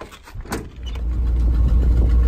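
Old Ford F-350 truck with a big 352 engine and 4-speed rumbling to life, a low steady idle building after a brief clunk, close and fairly loud.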